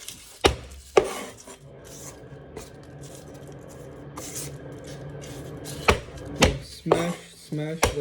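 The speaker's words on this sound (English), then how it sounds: "Smash the garlic" Garlic cloves are smashed on a cutting board with a few sharp, hard knocks, two early and a cluster near the end, separated by quieter kitchen rustling.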